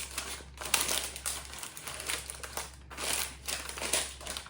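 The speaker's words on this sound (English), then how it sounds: "I'm going to put a piece of parchment and I lay it over the top and do that." Parchment paper is laid over bread and pressed down, crinkling and crumpling in rustling bursts close by, with a low steady hum underneath.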